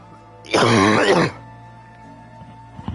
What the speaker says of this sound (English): I need to cough again, hang on.